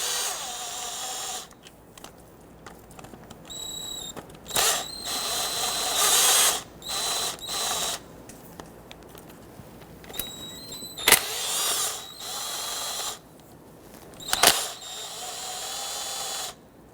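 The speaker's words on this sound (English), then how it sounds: "We're gonna go ahead and loosen and remove all of these all the way around the back side." Ratchet clicking in short bursts while loosening the oil pan bolts on a 1992-1996 Toyota Camry 2.2L four-cylinder, several separate bouts of rapid metallic ratcheting with quiet pauses between them, close by.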